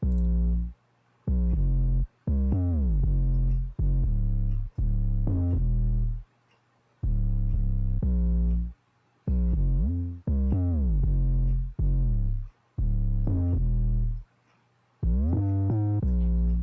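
Deep, booming 808 bass from a trap-style beat built on the U.S. national anthem, sliding pitched notes played in choppy bursts separated by short gaps, loud and alone with no talking.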